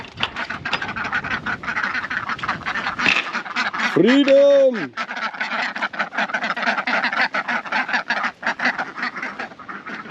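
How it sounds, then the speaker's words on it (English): Farmyard ducks give a short burst of loud, nasal quacks near the middle as they are let out, set among footsteps and rustling, with a person talking nearby before it. "Let the ducks out."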